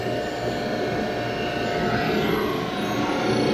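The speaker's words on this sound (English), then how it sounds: "that's what I mean by an open-ended drum sander" A wide, open-ended drum sander working oak shuffleboard table stock, giving a steady, loud broadband whir and rumble that holds unbroken throughout, close by with no talk.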